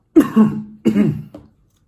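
Two rough coughs in quick succession, close and fairly loud, followed by a short faint throaty catch, then quiet.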